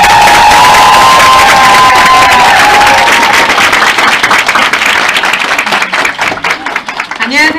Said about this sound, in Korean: 여러분들 김문주 사님을 큰 박수로 모시겠습니다